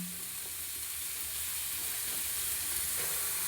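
Carrot, capsicum and other vegetables frying in a pan for fried rice, a continuous close sizzle with stirring scrapes, no talking.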